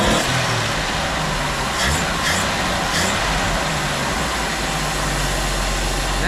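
A 1975 Jeep CJ5 engine cranks right after fuel is poured in, giving a steady, loud mechanical rumble and broadband roar that holds without pause, with no talk.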